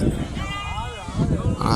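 A male goat bleats once, a wavering, drawn-out cry at a busy goat market in Mukkoodal, with people talking loudly around it before and after.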